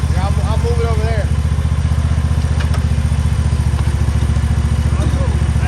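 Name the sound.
backpack leaf blower running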